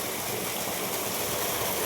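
Irrigation water runs steadily through a farm plot, a continuous broadband rush like a small stream, close and even throughout with no talk.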